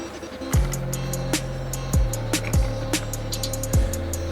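Clutch plates lifted out of a 2020 Honda CR125 two-stroke engine, giving a series of close metallic clinks and scrapes, roughly five distinct rings spaced about a second apart, each leaving a short humming decay.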